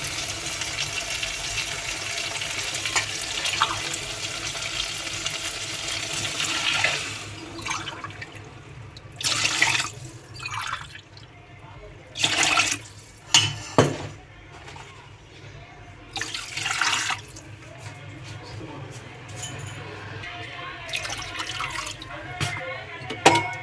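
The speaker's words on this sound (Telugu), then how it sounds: "దీంతో 6 గ్లాసుల వాటర్ని పోస్తున్నాను." Water is poured from a glass over three glasses of rice in a pot for chicken biryani, six glassfuls in total, heard as several separate splashing bursts with quieter gaps between them.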